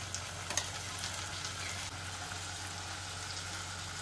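Ginger garlic paste sizzling and frying in a wok over cooked onions, a steady continuous hiss with a few small pops near the start, close and alone without talk.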